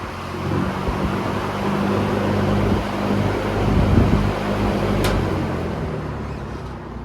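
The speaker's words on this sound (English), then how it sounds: "So we'll do a quick high and then spin down" A 1965 Bradford filter fan runs on high with a steady broadband whoosh and low motor hum, then gradually slows and fades toward the end after a brief click.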